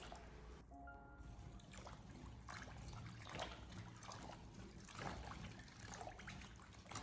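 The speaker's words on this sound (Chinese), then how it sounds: "接着我們再把蓮藕給它裝在大盆裡面，再添加滿清水給它清洗一遍" Cut lotus root being rinsed in a basin of water gives a steady close wash of trickling and sloshing, with irregular splashes throughout and no talk.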